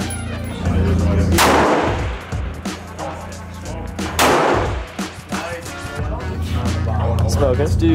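A rifle fired at a long-range target during a 1000-yard rifle versus bow challenge outdoors: two loud, sharp gunshots with ringing tails a few seconds apart, with people talking nearby between shots.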